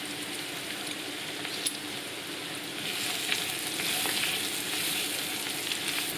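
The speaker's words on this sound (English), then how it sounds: "add the ginger and garlic and cook that for a couple of minutes" Onions, ginger and garlic sautéing in a pan produce a dense, continuous hissing sizzle that swells slightly midway, with occasional faint stirring taps.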